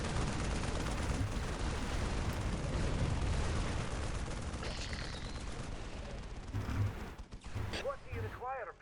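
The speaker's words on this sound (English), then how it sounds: "That's his plasma cannons." A Leman Russ tank commander's plasma cannons fire in the Dawn of War strategy game, a dense roar of rapid blasts and explosions that fades into sharp whooshing shots near the end.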